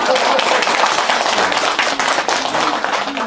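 Spontaneous clapping from an audience at a Buddhist sutra lecture in a Seoul meditation center, loud and close, a sustained burst of many hands with voices faintly underneath.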